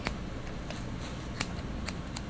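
Scissors trim a small dog's face fur during at-home grooming, giving a few faint, sharp snips against a steady quiet background hiss with no talking.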